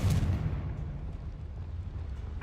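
A Confringo spell in Hogwarts Legacy bursts into a deep, rumbling fiery explosion, loud at the start and trailing off into a low roar.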